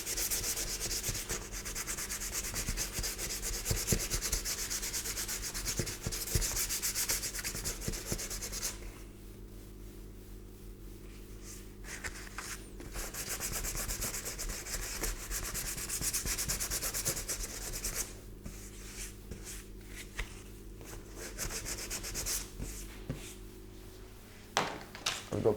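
Hand sanding of primer on car plastic, with the worker taking a whole area down: close, continuous rhythmic scratchy rubbing strokes for about twenty-five seconds, pausing briefly twice, with no talk.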